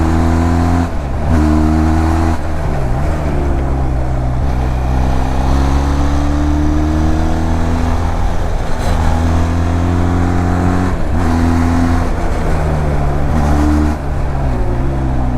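A Benelli TRK 502X adventure motorcycle's engine roars loud and close, rising and falling in pitch as it accelerates through a corner and shifts. There is no talk over it, only steady wind rush.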